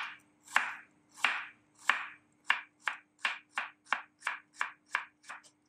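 A knife slices shallots on a cutting board about fourteen times, the strokes starting slow and speeding into a quicker, even rhythm, close and crisp.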